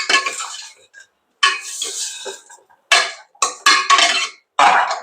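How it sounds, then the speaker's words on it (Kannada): A metal spoon scraping and clinking against a pan while mutton is fried for a Karnataka-style military hotel mutton sambar, in irregular stirring strokes with brief gaps, close and clear. "ಚೆನ್ನಾಗಿ ಫ್ರೈ ಮಾಡಿ."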